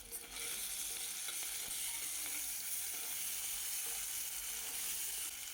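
Two tablespoons of ginger garlic paste fry in a pot for a mutton curry, with a steady, close hiss of sizzling oil and faint scraping and stirring underneath.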